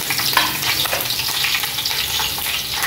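Curry leaves crackle and sizzle in hot oil for a crab fry, a dense, steady frying hiss with fine spitting pops throughout, close and fairly loud, with no voices.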